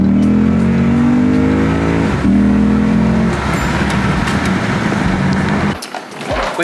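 Car engine with a newly installed titanium intake revving hard, a loud continuous roar with rising and falling pitch, then dropping off abruptly near the end.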